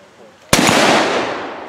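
A single loud gunshot at an outdoor ladies' shooting event, a sharp crack close by followed by a long rolling echo that fades away.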